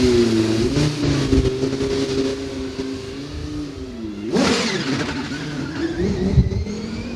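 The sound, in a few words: race car engine at Knockhill Racing Circuit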